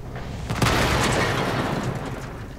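A Grille self-propelled gun fires in the World of Tanks video game on the Malinovka map: one deep, loud blast that leaves a long rumbling tail.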